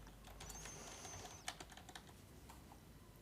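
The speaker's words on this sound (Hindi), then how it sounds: "मैं यहाँ पे लिखता हूँ एम्प्लॉइज़।" Quiet keystrokes on a computer keyboard while text is entered into a Microsoft Access form, a few soft scattered clicks with one sharper tap partway through, over a faint steady room hum.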